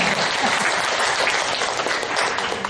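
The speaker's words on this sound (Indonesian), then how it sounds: "Tepuk tangan buat semua yang ada di sini." A seminar audience at a university breaks into loud, dense applause, many hands clapping close and continuous for the whole stretch.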